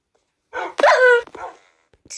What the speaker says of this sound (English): Can these puppies stop?